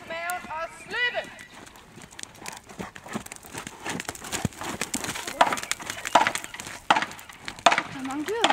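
Horse hooves clip-clopping at a trot during a riding practice session, the irregular knocks rising and falling under frequent chatter and voices.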